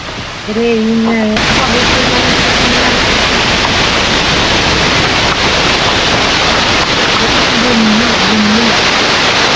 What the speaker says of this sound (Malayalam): നമുക്ക് അഞ്ച് വെള്ളച്ചാട്ടം കിട്ടി അഞ്ചാമത്തെ വെള്ളച്ചാട്ടം